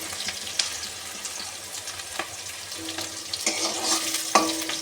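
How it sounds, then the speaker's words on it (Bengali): Food frying in a pan until reddish, a continuous crackling sizzle with intermittent scrapes and a couple of sharp utensil knocks, moderately close. "তাকে একটু লাল লাল করে ভেজে নেব।"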